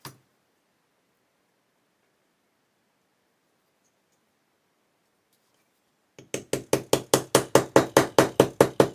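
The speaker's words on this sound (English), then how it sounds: "get the hammer, and start tapping this down in" A hammer taps parts of an Airfix 1/48 Gannet model kit down against a metal block, a steady run of about a dozen sharp, close knocks that speed up slightly, following several seconds of near silence.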